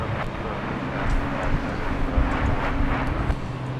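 A Japan Airlines Boeing 787 takes off at Los Angeles International Airport, a moderate, steady jet rumble with slight swells, heard at some distance with no talking.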